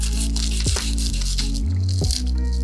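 A knife slicing through a beer-battered Brussels sprout gives close, crisp crunching and crackling over a steady low hum, with a couple of sharper cracks.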